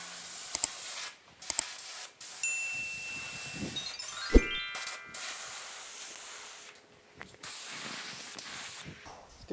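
A spray gun lays primer onto the hood of a 1950 Chevy truck in bursts of steady hiss, pausing between passes, with faint clicks and rustles in a workshop.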